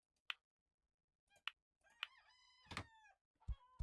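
Poultry in a farming video game giving a few sharp, separate clucks and calls, then a longer drawn-out crowing call with a couple of clucks after it, all fairly close and alone.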